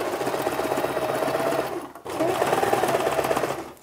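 A sewing machine stitches around a fabric hem about a quarter inch from the edge, a loud close continuous whirring hum that pauses briefly midway and then resumes, with no talking.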